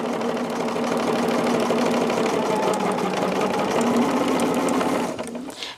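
A sewing machine runs steadily at speed, its needle stitching a row in a fast, even mechanical chatter with a humming motor tone, loud and close, before stopping abruptly near the end.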